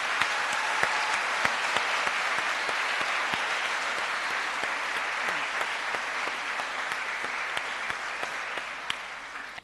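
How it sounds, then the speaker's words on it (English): School gala evening audience at a primary school giving sustained applause, many hands clapping steadily with a few sharper individual claps, slowly tapering toward the end. "Let us give them a big round of applause."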